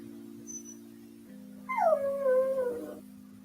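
A dog howls and whimpers in the background, a rising then falling wavering cry lasting about a second, heard fairly faintly over a steady low hum.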